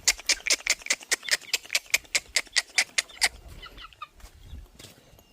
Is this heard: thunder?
no